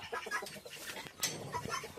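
Chickens cluck softly and repeatedly in a coop, including newly added hens, with overlapping short calls at close range and at moderate loudness, with no speech.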